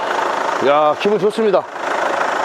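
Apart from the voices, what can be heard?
four-wheel-drive SUV engine idling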